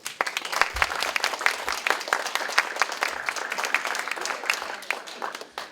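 Scattered, lively clapping from an audience cheering a Spam cooking contest, individual claps distinct and uneven, rising and falling without speech.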